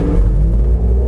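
A 2023 GMC Hummer EV Pickup Edition 1 pulls away at full throttle, giving a loud, steady, low electric rumble heard from inside the cabin with no engine pulses.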